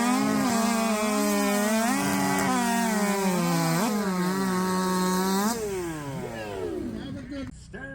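Several chainsaws at full throttle cutting timber in the 2023 chainsaw race in Jackson, Alabama, a loud sustained whine whose pitch bends and shifts before tailing off near the end.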